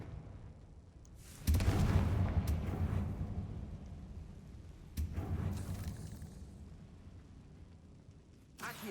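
Confringo fire-blast spell cast in the Hogwarts Legacy video game, two booming fiery blasts about three seconds apart, each a loud burst with a rumbling tail.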